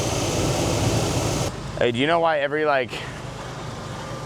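A junkyard pickup truck's engine idling with the air conditioning running, giving a steady close hum that drops out briefly while someone speaks, then returns.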